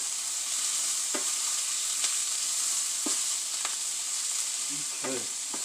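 Steak, onions and potatoes fry in a pan with a steady, close hiss, broken by a few soft clicks and scrapes of stirring and one brief louder clatter near the end; no talk.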